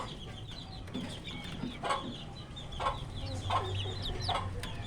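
Chickens cluck and squawk in scattered bursts close by, with a young rooster's call mixed in over a steady outdoor background.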